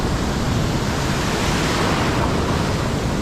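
Ocean waves wash continuously against a Philippine shoreline during a fishing outing, a loud, close, unbroken roar of surf mixed with wind noise on the microphone.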